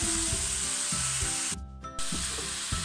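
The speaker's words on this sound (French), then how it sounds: "vous remuez bien pour bien imprégner l'huile de partout" Oil sizzling hard in a pan while vegetables are stirred through it, a loud, steady, close hiss with rhythmic scraping strokes and a brief dip midway. No voices.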